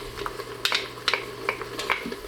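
Garlic sautéing in the pot of an Instant Pot, with soft sizzling under a series of light scraping and clinking stirring strokes, close and fairly quiet, no voices.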